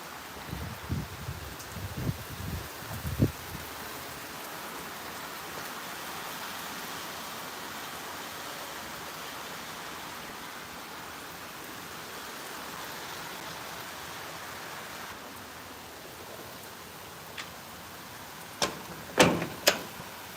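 Rain falling outside in wet weather, a steady soft hiss that carries on throughout, with a few brief knocks and clatters near the start and the end.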